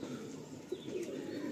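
Chatiyal pigeons at a bird sale coo softly in short, low murmurs, with a faint chirp or two, fairly quiet amid light background noise.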